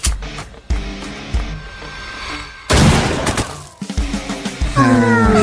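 Gunfire at an outdoor firing range during a shooting contest: loud, close gunshots in a quick sequence, with a dense burst midway, followed by one more report and a short ringing tone.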